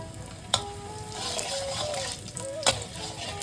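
Whole spices sizzle in hot oil as a tempering for a vegetarian mutton-style curry: bay leaves, dried red chillies, cinnamon, cumin, black peppercorns, green cardamom, cloves and asafoetida. A steady close crackle runs under two sharp clanks of a utensil against the pan.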